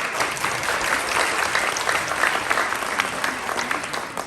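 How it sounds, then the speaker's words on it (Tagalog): A crowd at a graduation celebration at a hotel claps warmly and continuously, a dense, even applause close by that holds its level from start to end. "Palakpak!"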